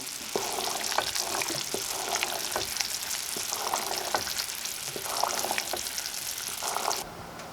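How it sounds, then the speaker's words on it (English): Steady bubbling and sizzling of water boiling hard in a pan, with scattered pops and crackles throughout, close by; no voices. "Still boiling off some of the water we put in."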